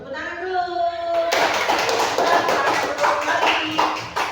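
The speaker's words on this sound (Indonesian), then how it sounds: "Tepuk tangan dulu." Schoolchildren in a classroom burst into applause, a dense, loud wash of clapping that starts abruptly after a moment of speech and continues steadily, with scattered voices mixed in.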